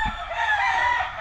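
A gamecock rooster at a game farm crows loudly and close by in one sustained, strained call, with other fowl faintly in the background.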